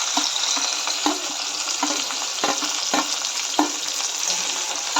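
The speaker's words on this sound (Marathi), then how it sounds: "आता याच्यामध्ये टोमॅटो वटाणा कांदा आणि गाजर टाकून घेऊया" Tomato, peas, onion and carrot frying in a pan for Maharashtrian-style upma, a steady close sizzle with repeated stirring scrapes and taps throughout, no talking.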